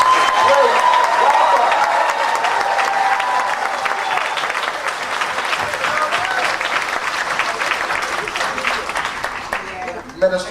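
Loud, sustained applause from a large audience honoring hosts from the Bahamas at a welcome and orientation event, dense clapping with cheering and voices mixed in, tapering near the end.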